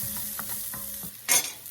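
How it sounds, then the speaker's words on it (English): Garlic tossed into a hot pot while a chuck roast is being prepared, giving a soft steady sizzle with light stirring scrapes and a brief louder hiss burst partway through, close and quiet with no talking. "first I'm going to throw the garlic in for like 30 seconds"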